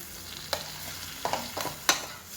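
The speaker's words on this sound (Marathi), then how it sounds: "हे आपण उकडून शिजवून घेतलेली भाजी घालू छान मिक्स करू" Boiled green beans are stirred into sizzling fried spices in a pan, with a few distinct spoon scrapes and clatters over a quiet frying hiss.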